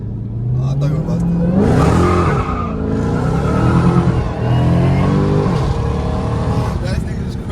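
Dodge Charger Hellcat Redeye engine revs hard and accelerates from inside the car, its rising growl loud and close and sweeping up in pitch with a possible tire squeal, while passengers talk and shout excitedly over it.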